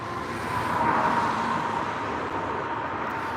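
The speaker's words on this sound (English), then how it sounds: "I'm sorry for the traffic" Steady road traffic rolls past in Maryland on Memorial Day, a continuous broad roar of cars and heavier vehicles that swells slightly and then holds, fairly close and loud, with no talking over it.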